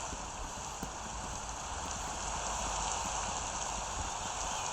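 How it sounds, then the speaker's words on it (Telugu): Steady hiss of rain falling in the Minecraft video game, a continuous broadband wash throughout with faint thuds beneath, no talking. "ఈ వర్షం ఆగితే బాగుండరా."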